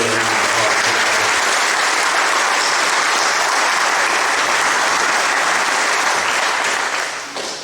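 A crowd at a SUN 'n FUN volunteer meeting gives loud, dense, sustained applause, an even wash of clapping that holds steady for several seconds before tapering off at the end.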